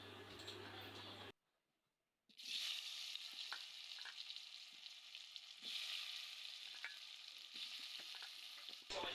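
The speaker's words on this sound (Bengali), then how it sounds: "এখন আলুগুলো ভেজে নেব।" Potatoes frying in hot oil sizzle steadily and close by, with brief stirring clicks and one short silent break early on.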